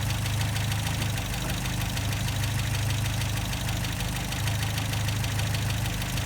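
An MGA MK2 engine idles steadily while its carburettor idle is adjusted, a continuous close mechanical hum with a low throbbing beat that dips slightly in the middle before settling back.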